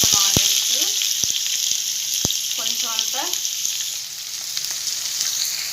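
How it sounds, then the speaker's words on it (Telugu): Thinly sliced onions fry in oil in a pan for a phool makhana masala curry, a bright steady sizzle broken by a few utensil clinks and faint background voices. "ఇందులో అయితే ఇప్పుడు ఆనియన్స్ వేసుకుందాం అండి సన్నగా కట్"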